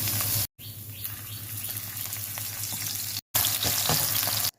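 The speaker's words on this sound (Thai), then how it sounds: "ผัดเห็ดให้เหลืองหอมก่อนนะคะ ด้วยไฟแรงๆค่ะ" Steady loud sizzling of shiitake mushrooms frying over high heat in a pan, with scraping and stirring clatter throughout and two brief cuts in the sound.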